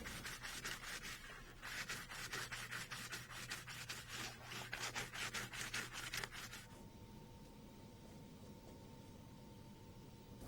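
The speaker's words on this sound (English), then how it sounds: "Sand off any excess resin on the inside diameter of the fan shroud ring." Excess resin is sanded off the inside diameter of a fiberglass fan shroud ring for a RotorWay 162F, producing rhythmic back-and-forth rubbing strokes, close and faint, before the sanding stops and a quiet hum remains.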